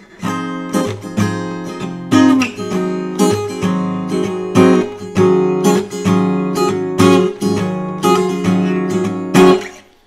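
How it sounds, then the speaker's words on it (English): An acoustic guitar strums a three-chord song in a steady rhythmic pattern, full chords ringing out close and clear with no voices. "if you want to change it up, you can also strum it as well"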